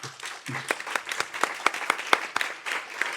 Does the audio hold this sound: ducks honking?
no